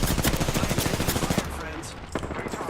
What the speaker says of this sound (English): They spotted me. I'm taking shots. Firing.